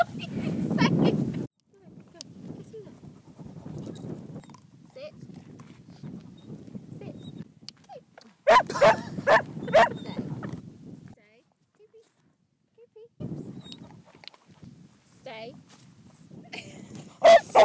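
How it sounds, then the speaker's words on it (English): Dogs move about on an open Cornish moor by the ancient Men-an-tol stones, with scuffling paws, an occasional bark and gusty wind, while people talk intermittently nearby. "we were trying to get the dogs to come through."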